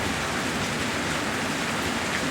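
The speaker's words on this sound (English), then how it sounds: "a good strong thunderstorm at night and the rain's pounding down on my metal roof" Heavy night thunderstorm rain pounds steadily on a metal roof, a dense, even roar of drumming drops with no breaks or voices.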